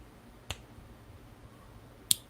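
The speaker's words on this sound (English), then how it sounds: "you snap your fingers" Two crisp finger snaps spaced well apart, sharp and close against a quiet indoor background.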